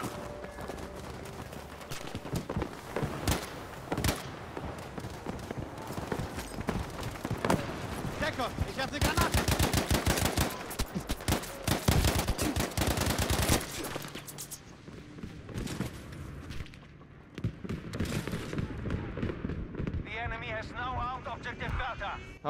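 Rapid gunfire from a pistol and other weapons in the Battlefield 5 beta, with sharp repeated shots in dense bursts and some quieter stretches, while a player talks over the action.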